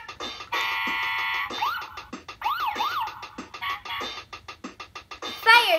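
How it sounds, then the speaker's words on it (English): A toy police car plays a loud electronic siren: a sustained tone, then rising and falling wails, broken up by repeated short beeps and chirps close to the microphone. "Police car."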